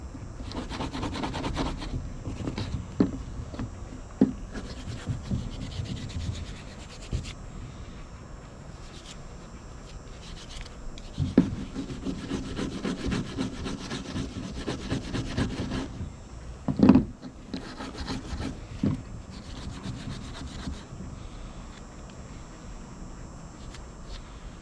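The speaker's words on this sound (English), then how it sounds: "touch it with the wire brush here" A wire brush scrubs rust off old hand tools, making steady rough scraping strokes with a few sharper knocks, close and fairly quiet, with no talking.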